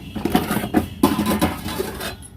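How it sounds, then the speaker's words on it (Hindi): A metal kadhai set down on a stove with a few clanks and clinks, then oil poured in, heard close and fairly loud with no voices. "रख दी है कढ़ाई, और कढ़ाई में डाल दिया है थोड़ा सा तेल"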